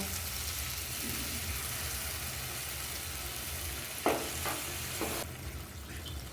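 Paneer frying in a pan with a little water added, giving a steady close sizzle with a few sharp hisses and spatters partway through.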